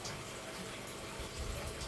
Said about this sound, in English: let's have a bit of a quick look back at where our water's coming up from the pump.